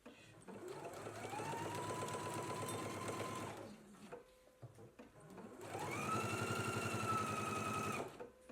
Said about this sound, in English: Let's go ahead and stitch our collars together now.